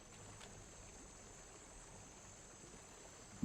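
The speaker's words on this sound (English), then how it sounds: "Okay, I'm behind the waterfall." A waterfall stream in Dungeons & Dragons Online: a faint, steady rushing wash of water that holds evenly throughout, heard from behind the falls with no voices.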